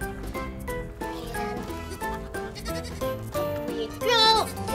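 Baby goats bleat in a short burst of wavering, high cries, loud and close, over a busy backdrop of music-like tones in a children's nursery rhyme setting.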